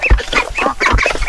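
Heritage chickens on a mini farm squawk and cluck repeatedly at close range, several loud overlapping calls in quick succession with no talking.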